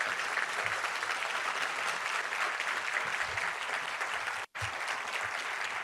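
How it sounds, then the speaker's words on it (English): Luncheon crowd applauding Texas House and Senate members as they stand, a sustained wash of clapping heard from a distance, steady throughout with a momentary dropout near the end. "they deserve a big round of applause"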